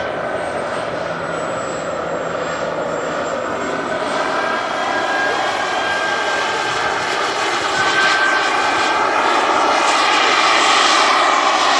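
A radio-controlled jet airplane's turbine roars continuously during a 3D aerobatic display at an RC jet gathering, a loud steady whine with shifting pitch as it maneuvers overhead, no talking.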